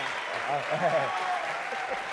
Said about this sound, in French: Ouais, vous pouvez l'applaudir.